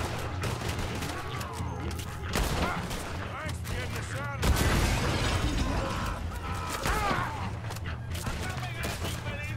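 Gunfire from the video game Red Dead Redemption 2 crackles in repeated shots and bursts over busy game noise, with someone talking throughout.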